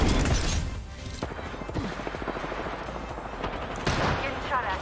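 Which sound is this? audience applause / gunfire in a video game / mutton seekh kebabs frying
gunfire in a video game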